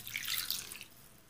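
A short splashing pour as a cup of water goes into rava batter made of semolina and yogurt, lasting about a second before trailing off quietly, with no voices.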